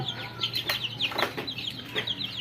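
Fayoumi chickens cluck repeatedly in short, scattered bursts, fairly close, against a low steady background hum.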